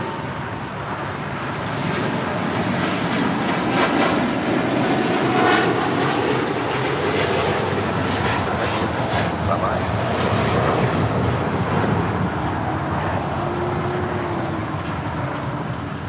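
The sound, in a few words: United Boeing 787-10 Dreamliner taking off at LAX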